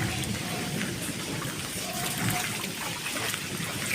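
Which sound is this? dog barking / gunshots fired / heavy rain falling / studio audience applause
heavy rain falling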